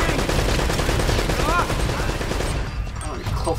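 Rapid gunfire rattles in Uncharted: Drake's Fortune Remastered, loud, continuous bursts of shots with a brief ricochet-like whine mixed in, easing slightly near the end.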